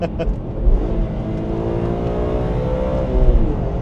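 A BMW E46 M3 engine revs loudly up close, a continuous raspy drone whose pitch climbs and holds.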